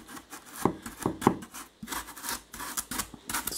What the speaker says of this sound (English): So just scrape away, it makes a mess here.